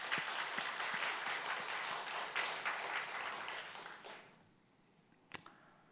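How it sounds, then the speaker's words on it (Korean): A church congregation claps in applause after a lively hymn, a dense wash of hands for about four seconds that fades out, followed by a single sharp knock near the end. "우리 하나님 앞에 이 신나는 찬양 앞에 뜨겁게 영광의 박수 한번 올려드립시다"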